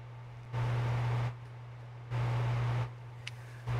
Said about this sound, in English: with a fan running, and you can hear the hum of something my neighbor has running